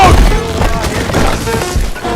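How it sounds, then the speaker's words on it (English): Lightning crash effect from a Thor movie scene: a dense, loud, continuous burst of crackling impacts and booming rumbles that runs throughout the clip. "It is not thunder, just the sound of lightning."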